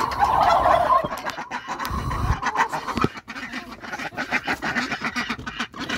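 Ducks and chickens being given water in a muddy pen call together, a busy mix of gobbling and quacking clucks, close and continuous with some splashing and shuffling underneath.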